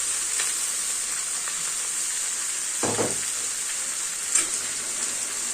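Hilsa fish head and chopped ash gourd frying together in a pan, a steady hissing sizzle with a couple of brief stirring scrapes and pops, no voices.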